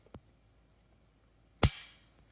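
A Hellcat Pro pistol is dry-fired. A faint tick comes first, then one sharp, loud snap of the trigger and striker that rings off briefly in a quiet room.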